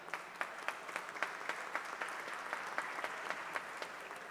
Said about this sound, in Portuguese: queria pedir uma salva de palmas do plenário